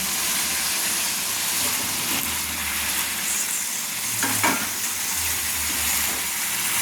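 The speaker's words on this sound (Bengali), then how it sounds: "দিয়ে আমি নেড়ে নিচ্ছি, সুন্দর করে নেড়ে নিচ্ছি।" Mutton and potatoes frying in a pan hiss with a continuous close sizzle while a utensil stirs through them, with a few louder scraping knocks midway.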